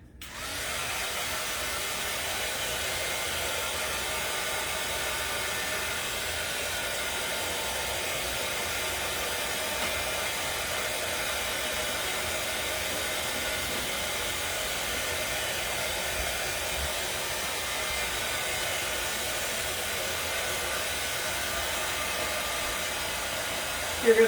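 A hair dryer blows steadily on a fall pumpkin decor craft, a loud continuous airy whoosh with no breaks that holds for over twenty seconds and then cuts off.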